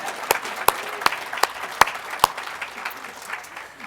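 Scattered claps from an audience at an award presentation, a handful of sharp separate hand claps spaced irregularly over light background noise rather than a full ovation.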